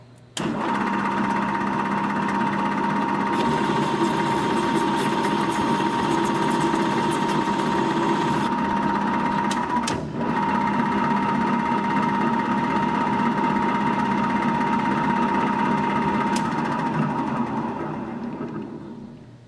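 A metal lathe cutting a screw thread in a machining lesson, its motor giving a steady loud whine with a hiss of cutting layered on top for several seconds, running continuously before winding down.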